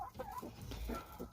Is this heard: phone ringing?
no